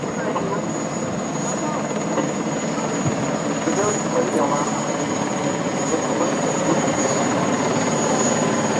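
A large military helicopter hovers during a disaster relief exercise for an earthquake and tsunami drill, its steady, loud rotor and turbine drone filling the air without pause.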